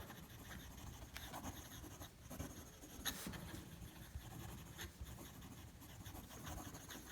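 A Lamy Studio fountain pen in terracotta scratches quickly across paper, a steady close-up rasp of continuous fast strokes with brief pauses between words, no voices.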